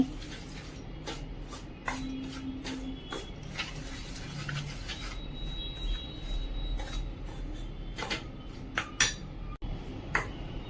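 Yogurt and semolina are whisked together in a bowl with a utensil, producing quiet, irregular clicks and taps against the bowl plus soft scraping, with faint background hum and no talk.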